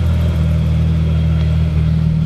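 The engine of a BMW 7 Series abandoned for ten years runs at a steady idle, a deep continuous rumble with an even, unbroken drone close by.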